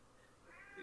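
A cat gives a single short meow in the background of a quiet indoor room, faint and brief, rising at the end.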